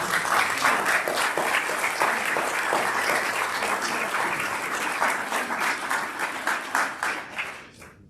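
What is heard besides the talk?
audience applause for speaker Al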